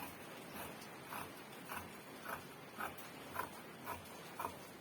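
Scissors cutting through trouser fabric for an adult's long pants, a soft rhythmic snip repeating about every half second, close and fairly quiet, with no talk.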